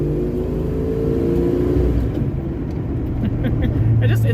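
A Foxbody Mustang drives and slides on a dirty road, its engine a steady close drone that rises slightly under light throttle, with tyre and road rumble beneath and brief higher accents near the end.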